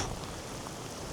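Rain falls steadily outdoors on a stormy mountain walk in Snowdonia, a dense, even hiss of drops close around with no talk.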